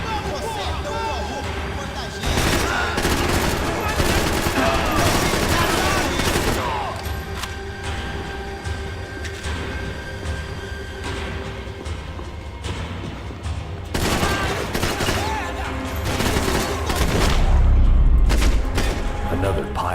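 Shotgun gunfire in the video game Max Payne 3, heavy repeated blasts in dense bursts mixed with other shooting and booms, loud and continuous over a game soundtrack, with a voice talking at times.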